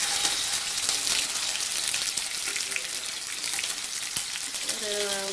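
Small onions, about ten cut in halves, frying in a pan for a Tamil garlic curry, giving a steady, close, loud sizzle throughout with faint clinks near the end.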